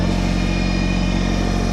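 A Kubota BT602 backhoe tractor's diesel engine runs steadily and loud while the rear outriggers are lowered, a constant close mechanical drone with no talk over it.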